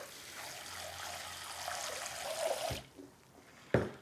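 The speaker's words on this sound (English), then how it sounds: "And then you add water" Water pours into a bowl of raw pumpkin seeds for washing, a quiet steady trickle and splash lasting a few seconds before stopping, followed by a brief clink near the end.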